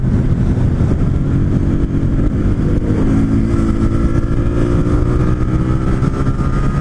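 Yamaha R3 motorcycle accelerating hard along a straight, a loud continuous engine drone with rising harmonics as it pulls through the gears, steady and close with wind noise throughout.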